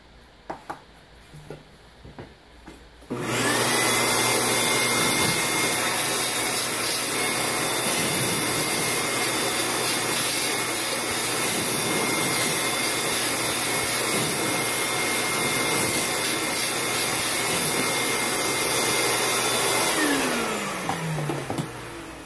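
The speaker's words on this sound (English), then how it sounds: "let's vacuum it out again" A shop vacuum roars loud and steady for about seventeen seconds, cleaning out an injector cup bore on a 7.3 engine, starting abruptly after a few quiet knocks and tapering as it shuts off.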